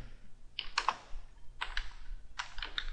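Keys clatter on a computer keyboard in three short bursts of close, crisp typing, as text is entered into an image in Photoshop; no one speaks.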